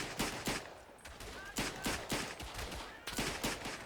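Rapid bursts of gunfire from a World War I battle in the game Verdun ring out in repeated volleys, loud and close, with short gaps between clusters of shots.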